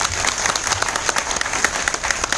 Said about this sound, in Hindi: ग्रेट और जबरदस्त ताली उनके लिए होनी चाहिए